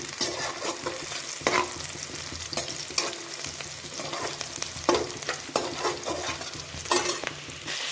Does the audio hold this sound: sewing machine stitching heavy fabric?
no